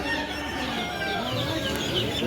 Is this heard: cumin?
no